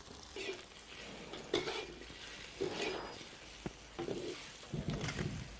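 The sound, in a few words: pan-frying rice tofu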